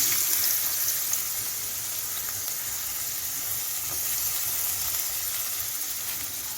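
Small onions sizzle in hot oil in a pan as momo filling cooks: a steady, close, dense crackling hiss that holds evenly throughout, with no talking.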